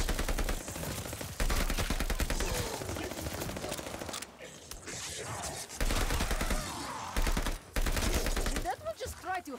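Rapid automatic gunfire from the Call of Duty Vanguard multiplayer video game, loud sustained bursts with brief pauses between them and a voice talking over parts of it.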